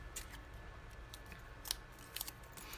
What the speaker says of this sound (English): Okay, so we are just cutting this out.